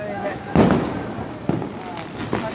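Diwali firecrackers burst on the streets of Chennai, three sharp cracks spaced about a second apart at middle distance, over a steady background of festive crowd noise and faint voices.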